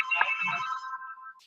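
A home telephone rings during a homeowners' association board meeting: one steady electronic ringtone with a bright tonal buzz, fairly close and clear, fading out after about a second with a faint click at the end.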